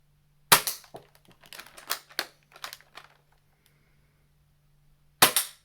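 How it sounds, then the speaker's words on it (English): A spring-modded Hammerstorm Nerf blaster fires foam darts, giving a loud sharp crack, a run of quieter clicks and clacks of handling, then another loud shot, close by with no speech. "here I've got a spring modded Hammerstorm loaded up with first 2 Accu-Strike darts, then 2 Zuru-XShot darts, then 4 fast shot darts"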